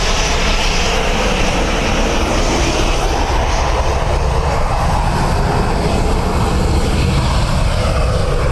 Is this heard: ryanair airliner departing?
yes